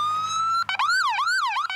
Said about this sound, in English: the lights, the siren